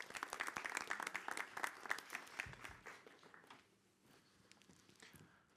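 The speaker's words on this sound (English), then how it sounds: "Big round of applause." A festival audience claps to welcome speaker Troy onto the stage, crisp close-up hand claps that are dense at first, then thin out and fade to a few scattered claps and quiet shuffling.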